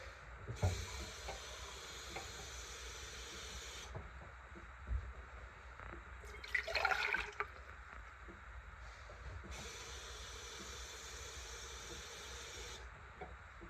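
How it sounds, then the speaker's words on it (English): Warm water for homemade white bread dough is poured in one brief, soft splashing burst against a quiet background hiss, without any talking. "what you're going to start off with is 2 cups of warm water"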